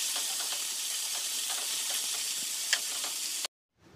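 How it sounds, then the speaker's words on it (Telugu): Banana blossom fries in hot oil, giving a loud, bright continuous sizzle with a few scraping stirs, then cutting off abruptly to near silence before a faint return at the end. "ఇలా ఆయిల్‌లో వేసి ఫ్రై చేసి కలుపుకుంటూ మంచి ఆయిల్‌లో మంచిగా ఫ్రై అవ్వనివ్వాలన్నమాట."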